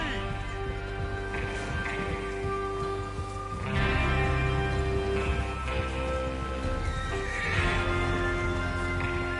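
A horse whinnies and snorts over a dense, rumbling Red Dead Redemption 2 soundscape, with steady ambient noise and faint hoof sounds in the background.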